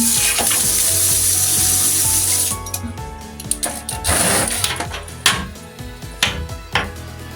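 Water poured onto orchid moss in a pot, soaking it: a steady hiss of running water at first, then broken splashes and drips with scattered sharper spatters as the flow eases.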